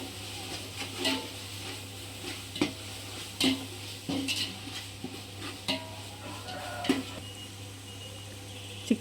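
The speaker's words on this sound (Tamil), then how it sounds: "பச்சை மிளகாய் 4, அதையும் சேர்த்து நல்லா வதக்கிக்கணும்." Green chillies sauté in a pan for biryani, a steady sizzle broken by a series of sharp scraping clacks as a spoon stirs and knocks the pan every second or so, close and fairly quiet.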